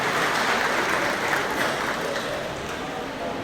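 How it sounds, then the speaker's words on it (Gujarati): Applause from an audience at a municipal development-week inauguration event in Bhavnagar, a steady dense wash of clapping held at even loudness throughout, with no distinct voices rising above it. "આપણે સૌ તાળીઓના જોરદાર નજારાથી વધાવીએ."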